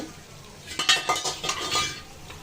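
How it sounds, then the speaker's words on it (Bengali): Onion hitting hot oil in a cooking pot: a few quick metallic clinks and scrapes of a utensil against the pot, over a light sizzle, all close and short. "এখানে আমি পাতিলে তেল দিয়ে দিয়েছি দিয়ে দেবো পেঁয়াজ"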